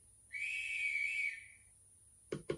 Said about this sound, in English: Function 16 is the guard whistle.